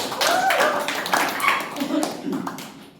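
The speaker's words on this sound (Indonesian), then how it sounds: "Beri tepuk tangan." A classroom of students gives a short round of applause, a dense patter of many hands clapping that lasts a few seconds and fades toward the end.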